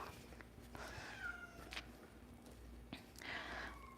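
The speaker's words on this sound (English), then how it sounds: "Those videos you see on Instagram with the cats when they're crying in that really sad, pathetic way" A cat cries plaintively in a few drawn-out, rising-and-falling meows, quiet and fairly close, separated by short pauses.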